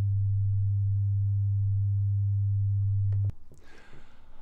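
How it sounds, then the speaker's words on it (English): A steady, pure 100 Hz sine test tone at minus 20 hums evenly for about three seconds, then cuts off abruptly, leaving faint room noise and a few soft clicks. "we'll start off with a sine wave of 100 Hz at minus 20"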